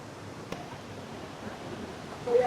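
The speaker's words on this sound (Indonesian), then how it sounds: "Dan ini tuh ada air terjun kecilnya juga ya di sebelah sini ya." A small waterfall at Baturaden in Purwokerto sends out a steady, soft rushing wash of falling water, heard from a short distance. The sound is continuous and unbroken, with a slight swell near the end and no voices.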